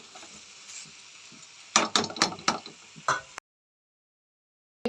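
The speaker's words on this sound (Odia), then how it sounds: "ଏଠି ମୁଁ କଦଳୀ ଆଳୁ ଭାଜୁଛି।" Raw banana and potato frying in a pan in a home kitchen, a burst of sizzling and stirring scrapes lasting a couple of seconds, then silence.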